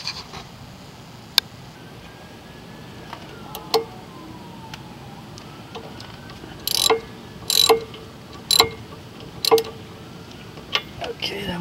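A hand ratchet clicks in short bursts while backing out the single screw that holds a car's ABS sensor, the quick pawl ticks coming in several clusters over a quiet garage background.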